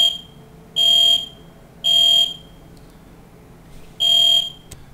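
Repeated loud electronic blasts from a building fire alarm, four steady high-pitched buzzes with one longer gap, plus a brief click near the end.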